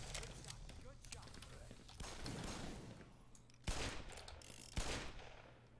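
Revolver shots in the game Black Mess, with two sharp, distinct cracks standing out over a busy background of rattling gunfire and voices talking.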